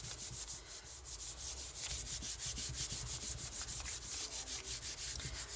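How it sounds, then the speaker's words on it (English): A scrap of paper is rubbed over paint on a Gelli plate in quick, even back-and-forth strokes, a steady rhythmic close swishing that runs continuously with no talk. "I'm going to take my scrap piece, put it on top, and we're just going to rub that in."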